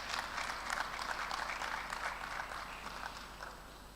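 An audience at a pledge-taking ceremony for successful candidates applauds the arriving chairman, producing fairly quiet, continuous clapping that gradually fades toward the end.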